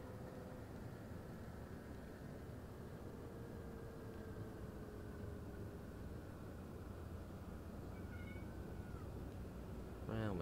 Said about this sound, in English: The cat was meowing.